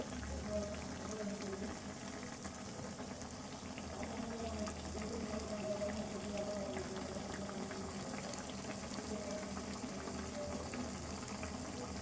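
Sprouted-gram garelu fritters fry in hot oil over a low stove flame, giving a steady, dense bubbling sizzle that continues evenly throughout at a close, moderate level.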